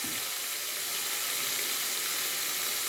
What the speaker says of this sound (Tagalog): Lagyan daw niya ng tubig.